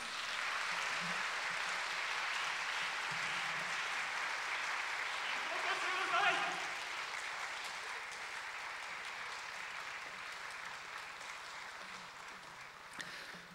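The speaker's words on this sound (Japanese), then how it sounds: "皆様、盛大な拍手をお願いいたします。" Sustained audience applause closing a Fukushima gubernatorial election public debate, steady broadband clapping filling the hall and gradually thinning toward the end, with faint voices underneath.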